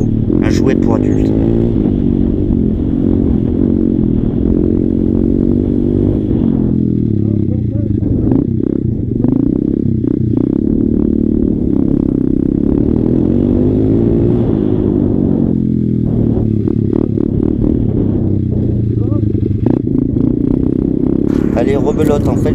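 A motorcycle drifting through a curve on a dirt track, its engine roaring loud and continuous with rising and falling revs close to the rider, while someone talks over it in French.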